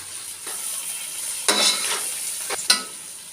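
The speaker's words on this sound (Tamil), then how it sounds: "புதினா நல்லா வதங்கிடுச்சு." Mint sautés in a pan for prawn biryani, giving a soft steady sizzle with a few louder scrapes and stirs of a spoon against the pan.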